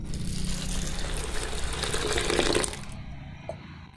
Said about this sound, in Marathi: भाजून घेतलेली मटकी स्वच्छ अशी धुवून घेऊयात.